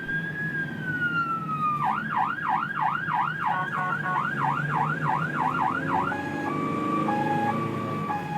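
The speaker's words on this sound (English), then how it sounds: "interesting siren cadence on that one" A loud wailing ambulance siren sweeps up and down in rapid repeated cycles over steady heavy-traffic noise, then shifts into a slower two-tone hi-lo pattern near the end, with no talking.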